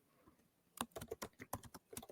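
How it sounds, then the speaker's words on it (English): Typing on a computer keyboard, a quick run of close, crisp key clicks in an irregular rhythm with no voices over it. "I'm typing something in for you"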